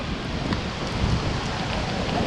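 Steady broadband hiss of heavy spray from Victoria Falls in Zambia raining down, a constant close wash like downpour with a deep low roar of falling water beneath, no voices.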